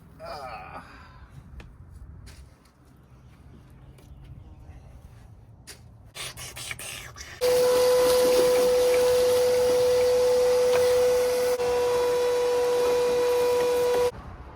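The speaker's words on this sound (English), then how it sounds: "We're gonna need to bring the vacuum over here." After some quiet shuffling and faint talk, a vacuum switches on with a loud, steady droning whine that runs for several seconds, then cuts off.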